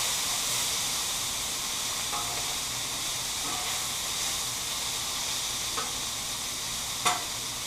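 Philly cheese steak meat frying in grease on a Blackstone griddle, a constant loud hiss and crackle with a few spatula scrapes and one sharp clack near the end, no voices.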